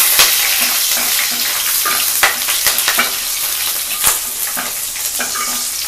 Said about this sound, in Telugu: ఇలా వేసిన తర్వాత దీంట్లో పచ్చిమిర్చి వేసేసేయండి